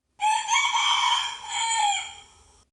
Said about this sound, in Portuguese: Esse é o som do galo.